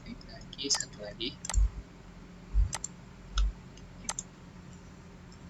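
Mouse clicks while placing parts for an Arduino running-LED circuit in a simulator: several crisp, separate clicks at an irregular pace, with soft low thumps and a faint voice underneath.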